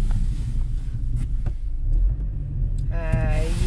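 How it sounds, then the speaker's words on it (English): A small car drives off-road through snow on winter tires, with a steady low engine rumble throughout and a brief rising whine near the end. "It's so much easier to get this little car in here than the pickup."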